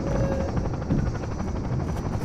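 Helicopter rotor noise from Entropy Zero 2, a loud continuous chopping rumble with rapid blade pulses, close and unbroken for a couple of seconds.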